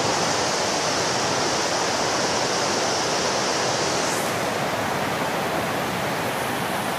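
Swollen, rain-fed river water rushes loudly and steadily at a waterfall campsite in Perak, a dense, continuous roar close by with no voices.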